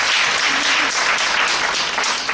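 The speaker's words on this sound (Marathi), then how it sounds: "या सगळ्यांसाठी आपण जोरात टाळ्या वाजवूयात" Sustained, dense applause from an audience at a save-the-girl-child anganwadi workshop in Sangamner, loud and steady throughout without pause.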